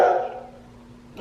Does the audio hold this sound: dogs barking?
yes